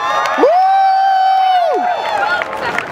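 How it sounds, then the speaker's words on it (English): At a net neutrality street protest in Philadelphia, a crowd cheers for a speaker, one long sustained whoop or shout standing out over general crowd noise and scattered clapping. "Give him a round of applause."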